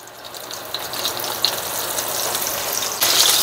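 Food frying on medium-high heat with lemon juice in a pan, a continuous close sizzle with small pops, growing slightly louder and brighter toward the end as it is covered.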